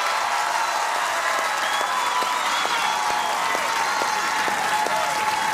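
Large crowd applauding bowler Brian Zeisig at a PBA plastic ball bowling championship, steady clapping that runs loud and unbroken throughout, mixed with faint cheering and commentary.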